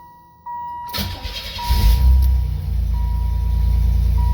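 A 1987 Chevy Celebrity Eurosport engine cranks briefly and catches, then settles into a steady, loud idle with a faint high whine running underneath.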